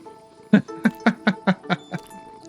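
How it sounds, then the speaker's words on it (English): Cats in a Minecraft creeper farm give a quick run of seven short meows, evenly spaced and fairly close, with nothing else in the background. "I need a bunch of cats in my creeper farm"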